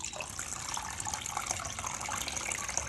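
Whey drains from curds tied up in muslin cloth, a steady soft trickle and patter of liquid running continuously at low level with no voices.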